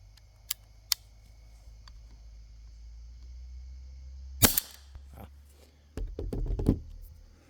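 Edgun Leshiy 2 air rifle fired over a chronograph: a sharp loud crack around the middle, followed by clattery handling noise, with two faint clicks earlier over a steady low hum.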